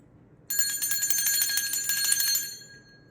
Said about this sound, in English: before I do like to ring my bell